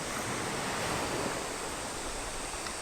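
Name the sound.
strong sea waves at high tide on beach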